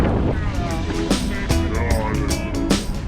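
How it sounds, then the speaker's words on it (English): A motor drives a sailboat on San Diego Bay, heard as a loud, close, steady engine rumble mixed with heavy wind buffeting and splashing water, over a short stretch of three seconds. "He's using a motor on a sailboat."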